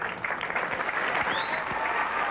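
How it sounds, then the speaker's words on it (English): Spectators at a women's professional bowling tournament applaud, a moderate, somewhat distant patter of clapping with a faint steady tone running through it. "Great round of applause."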